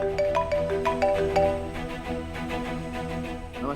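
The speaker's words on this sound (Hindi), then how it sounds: "देखिए, शिव जी का फोन आ गया।" A phone ringtone plays for an incoming call, a bright repeating electronic melody of short tonal notes at steady volume, with no talking over it.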